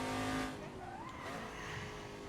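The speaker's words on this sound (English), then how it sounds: "Hear it chirping the brakes in the background there." Race car in the Assetto Corsa driving game with Group C touring cars, brakes chirping in short tire-squeal streaks over a steady engine drone, moderately loud and continuous.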